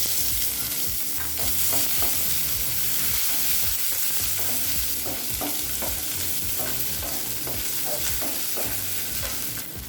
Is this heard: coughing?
no